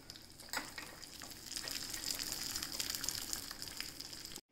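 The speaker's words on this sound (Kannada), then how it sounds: "ಸ್ವಲ್ಪ ಗೋಡಂಬಿ ಮತ್ತು ದ್ರಾಕ್ಷಿಯನ್ನು ತುಪ್ಪದಲ್ಲಿ ಹುರ್ಕೊಳ್ತೇನೆ, ಹುರಿದು ಹಾಕ್ತೇನೆ." Cashews and raisins frying in ghee for a Havyaka-style sweet sheera, a steady bright sizzle with a few sharper crackles, close and alone, cutting off abruptly at the end.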